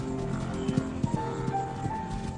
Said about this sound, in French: Ils n'ont plus qu'à se laisser guider par le bruit des sabots.